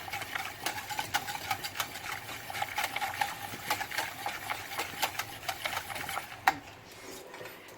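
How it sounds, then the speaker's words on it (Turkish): A spoon stirring pudding steadily in a pot on the stove as it is brought to a boil, giving a quiet, rapid, rhythmic scraping and ticking that goes on without pause. "Devamlı karıştırıyorum. Kaynayıncaya kadar."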